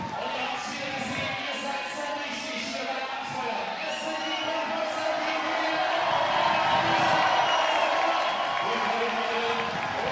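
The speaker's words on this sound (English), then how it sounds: "The crowd goes wild to that." A large crowd cheers and roars at a bouldering competition final, a sustained swell of shouting and whoops that builds steadily, with a commentator talking over it.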